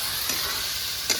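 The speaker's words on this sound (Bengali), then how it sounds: "কিন্দুরিটা আমি ভালো করে গ্রেভির সঙ্গে 2-3 মিনিট আমি কষতে নেবো" Kundri (ivy gourd) stirred with gravy in hot oil gives a continuous close sizzle, with a couple of brief scraping stirs over the frying hiss.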